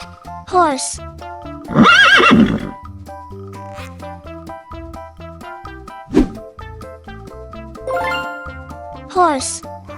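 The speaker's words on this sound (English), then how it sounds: "Horse." A horse neighs in a farm animal setting, a loud descending whinny standing out over a bouncy children's music backing, with a shorter whinny near the end and a croaking frog-like call in between.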